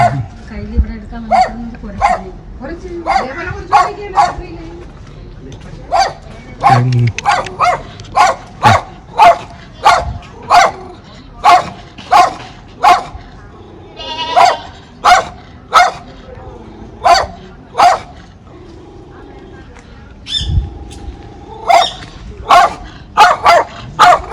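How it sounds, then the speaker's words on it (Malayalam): A dog barks repeatedly outdoors in a steady series of sharp, loud barks spaced about a second apart, with people talking nearby between and under the barking. "ഈ ഡോഗ് കടിക്കുന്നൊന്നുമല്ല"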